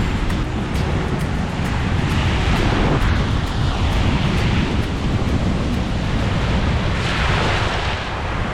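Sea waves break and wash on a windy shore, a loud continuous roar of surf with wind buffeting the microphone, no voices.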